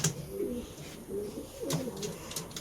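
Pigeons in a breeding coop give soft, low, repeated coos, fairly quiet and close, with a faint background hiss.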